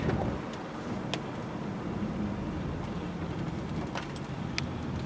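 A BMW E39 523i sedan drives into a curve, heard from inside as a steady low engine and road rumble with faint wind noise and no talking.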